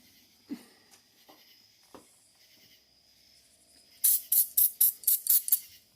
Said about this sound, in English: I'm going to take some brake parts cleaner.